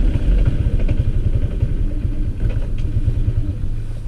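A Honda ADV150 scooter engine cranks and catches with loud, close, rapid chugging pulses that falter and weaken as it dies, with no talking.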